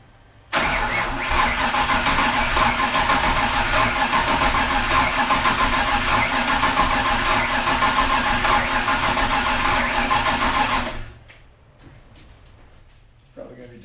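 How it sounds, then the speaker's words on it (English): A Turbo 414W engine on its first test fire bursts into a loud, close, continuous roar for about ten seconds before abruptly cutting off, leaving faint background noise. "I'm going to get the battery connected and then give it a test fire,"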